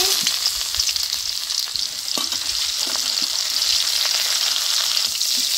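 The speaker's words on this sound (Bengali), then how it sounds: "পেঁয়াজ আমি হালকা করে ভেজে নিব" Chopped onion frying in hot oil with cumin seeds, dried red chilli and bay leaves for ghugni, a steady bright sizzle with spatula scrapes and stirring clicks, close and continuous.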